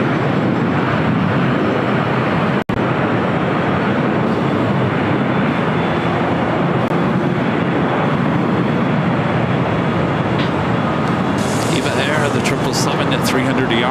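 A Boeing 777-300ER airliner bound for Taipei taxis along a taxiway at LAX, a loud continuous jet engine roar holding steady throughout, with a faint voice over it.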